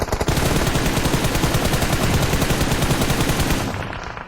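Automatic gunfire during a pro-league video game scrim rattles in a loud, rapid, unbroken burst for over three seconds before cutting off abruptly.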